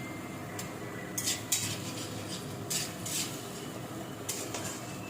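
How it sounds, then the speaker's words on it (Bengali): Spice paste stirred and fried in a pan, quiet low sizzle underneath several scraping clinks of a spatula or spoon against the metal, no voices. "মশলাটাকে ভালো করে কষবো।"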